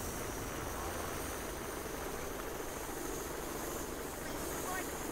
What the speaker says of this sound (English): Are you trying to fly the helicopter? I am flying.